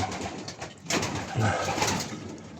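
Soft, low coos from moulting pigeons repeat against a steady background hum, with a slightly louder stretch in the middle; no one speaks.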